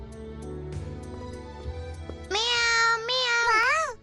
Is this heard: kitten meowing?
yes